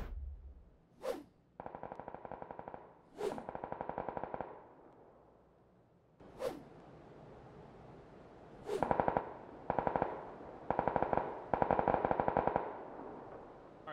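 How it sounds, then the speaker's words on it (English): Far-off gunfire of more than 400 meters in the video game PUBG: several bursts of rapid automatic shots with single sharp cracks between them, echoing and distant but clear, alone with no talk. "let's take a look at really far gunshots, like 400 meters plus."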